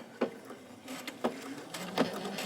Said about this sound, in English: my machine automatically does a reinforcement stitch